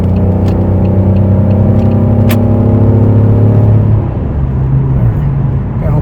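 A 2004–2008 Pontiac Grand Prix fitted with a new Dynomax exhaust rumbles from inside the cabin, a loud, steady low drone that eases slightly in pitch partway through, with no speech.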